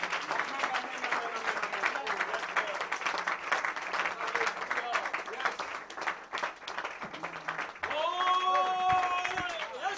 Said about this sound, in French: Give to the Lord the clap of hand.